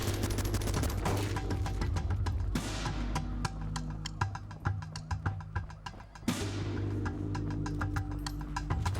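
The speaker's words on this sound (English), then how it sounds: "They bring out sniper rifles." Enemy sniper rifles fire in the top-down action game Ape Out, a loud, dense stream of sharp shots and impacts crackling over a steady droning backdrop.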